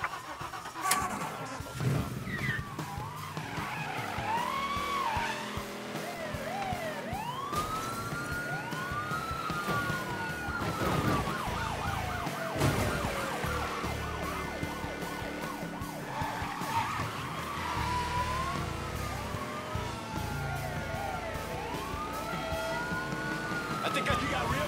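Police car sirens wail and sweep repeatedly while cars race and skid in the video game Mafia III, with engine noise and occasional spoken lines throughout.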